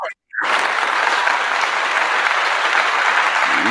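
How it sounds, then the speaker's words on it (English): A short silent gap gives way to dense, steady applause from a studio group, bright and continuous clapping holding at an even loudness to the end. "So 2 sets of applause"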